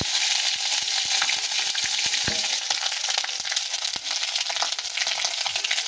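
Ginger garlic paste sizzles hard in hot oil in a frying pan on a lowered gas flame, a steady dense crackle with scattered sharp pops and a brief stirring scrape, close and loud with no voices.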